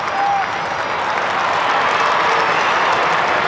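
A football stadium crowd at a 1997 North Melbourne versus St Kilda match roars with steady applause and cheering, a dense wash of sound from a large crowd.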